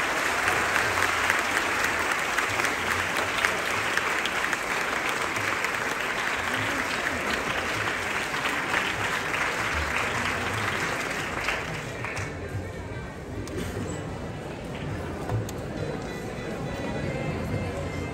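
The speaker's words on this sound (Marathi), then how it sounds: "टाळ्यांचा आवाज येत राहिला पाहिजे" Loud, sustained applause from a large crowd at a civic felicitation ceremony honoring Marathi sports journalists and Paris 2024 Olympic athletes, steady for a long stretch before easing slightly and continuing.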